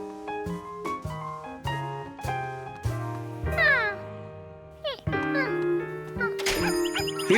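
Cartoon cat meowing repeatedly in a children's animated series, several short melodic mews over a bright musical score with chimes and plucked notes, no talking.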